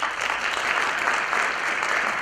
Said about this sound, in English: please do not hold your applause until the end